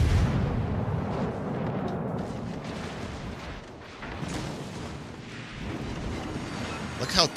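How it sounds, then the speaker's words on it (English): Naval gunfire in a World of Warships battle, with heavy booming cannon shots rumbling continuously through a dense, noisy battle soundscape and sharper blasts near the end. "He's going to take shots on the Brindisi."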